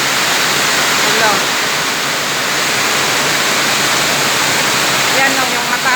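Heavy typhoon Carina rain and rushing floodwater make a loud, steady broadband roar with no gaps, keeping close and constant from start to finish while a voice speaks faintly underneath.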